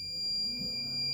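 The alarm buzzer of a Brown's Gas Machine Model T6633 sounds as a steady, continuous high-pitched electronic tone, close and unbroken throughout.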